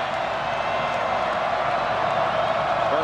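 Football fans fill a stadium at a 2008 Notre Dame versus Michigan game, their cheering a steady, dense roar of crowd noise that holds evenly from start to finish.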